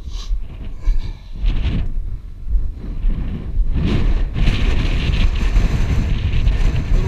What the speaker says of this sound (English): A little wind out here.